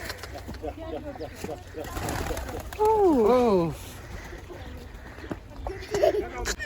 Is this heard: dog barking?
no